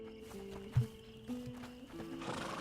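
A horse whinnies once, briefly and close, with hoof clip-clops and a low ambient hum in a dark A Plague Tale video game scene.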